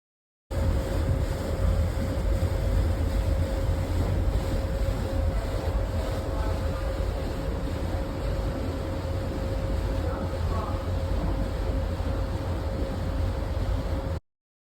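A ferry crossing from Kjærtveit to Utsna in Norway's Hardanger region hums with a constant low engine drone and a steady tonal whine, loud and unbroken under heavy wind-like rushing noise, with no clear voices.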